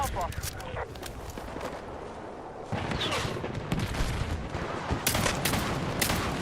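Gunfire in a first-person shooter game, with bursts of automatic shots and sharp single cracks over constant game noise and footsteps, growing louder and denser midway, with people talking throughout.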